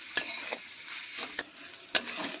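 Vegetable chop filling stirred and fried in a pan, with soft sizzling beneath a few distinct scraping strokes of a spoon against the pan, fairly quiet and close, no talking.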